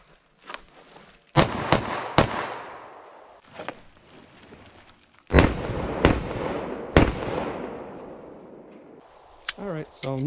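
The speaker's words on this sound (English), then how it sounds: "I'm seeing the silhouette of my gun and I'm popping off those shots." Several sharp gunshots from a Sig 365 9mm pistol fired at a range with double tap ammunition, loud close cracks arriving in pairs and singles with short gaps between them.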